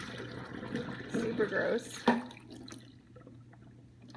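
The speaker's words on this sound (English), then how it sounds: "you can pour it all down the drain" Dirty water from a Bissell ProHeat Revolution Pet Pro carpet cleaner reservoir pours down a drain, splashing and gurgling for a couple of seconds before trailing off into quiet, with a brief spoken remark over the pour.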